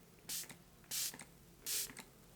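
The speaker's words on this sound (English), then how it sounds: "I'm going to spray now so that you can see." A spray bottle of makeup setting spray misting three times, short hissing bursts close to the microphone, each followed by a faint click of the pump, in a quiet room.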